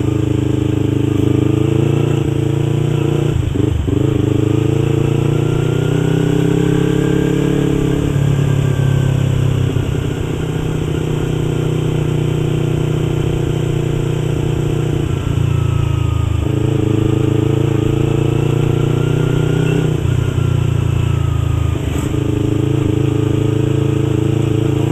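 A 2015 Yamaha YZF R25 motorcycle's engine drones loud and steady while riding, its close, continuous tone shifting slightly in pitch as the throttle varies, with brief dips where gears change.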